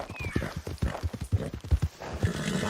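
Horse hooves clip-clopping steadily on the ground in the Red Dead Online video game, a quick, even rhythm of close, fairly loud thuds with a whinny-like tone early on.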